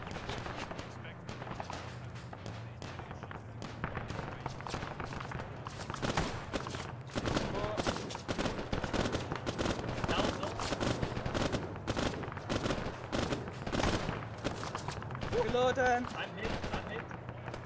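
Gunfire in the military shooter Arma 3, a steady run of distant, rapid shots and bursts crackling across the whole stretch, fairly faint, under a low background hum.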